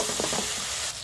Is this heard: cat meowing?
no